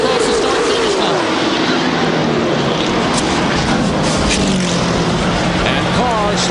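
Race cars roaring across the finish line at Talladega in the 2000 Winston 500 amid a crash, with cars slipping and sliding as the checkered flag waves; a dense, loud, continuous engine roar with crowd noise and commentary over it.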